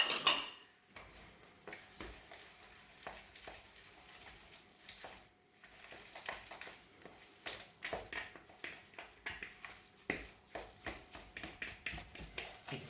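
A utensil stirs falafel mixture in a bowl with a little flour added, giving soft, quiet scraping and tapping against the bowl in an irregular rhythm.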